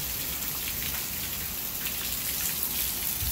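Heavy rain falls north of Houston, Texas, pattering on surfaces nearby, a continuous hiss of drops with no other sounds.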